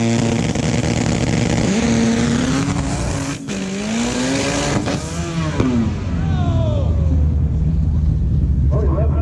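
A drag race car with an H22 engine makes a pass down the track, its engine screaming up through the gears in loud rising sweeps before fading toward the end. A voice is heard faintly behind it.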